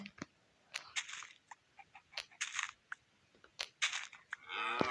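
A blocky Minecraft cow lets out short, crisp moos, mixed with crunchy block-breaking hits in a game world, with no talking.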